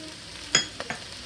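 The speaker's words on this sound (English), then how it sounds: "Now we're going to add our garlic" Garlic for beef stew goes into a hot pot and sizzles quietly, with a brief sharp hiss followed by two soft stirring scrapes, close and without talking.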